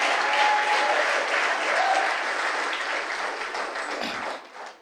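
Loud, sustained clapping from a large church congregation, steady and dense for several seconds before tapering off at the end.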